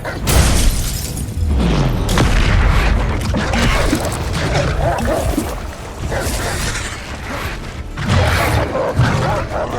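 Confringo blasting spells bursting one after another in Hogwarts Legacy combat, loud booming blasts and crashing debris in a dense, continuous battle din, with no speech.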